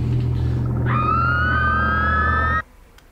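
An eerie mermaid siren call from a film rises as a single sustained, slowly climbing wailing tone over a low droning rumble, then cuts off abruptly, with no talking.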